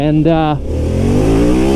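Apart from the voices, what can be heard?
motorcycle engine revving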